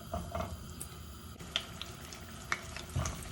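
Eggplants frying in hot oil in a pan: a faint, low sizzle broken by a few soft clinks and taps of the slices being set into the pan.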